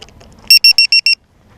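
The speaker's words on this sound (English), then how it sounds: "there's the battery alarm" Five loud, evenly spaced electronic beeps from a LiPo battery voltage alarm on an RC plane, close by and alone, with quiet background before and after.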